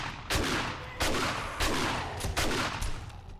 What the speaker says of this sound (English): my SMG is shooting them through the bars